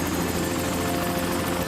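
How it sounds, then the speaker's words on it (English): A helicopter from a Smallville episode gives a loud, steady rotor drone with a constant thrumming whir, heard alone and unchanging throughout. "Martha Kent's going for a helicopter ride."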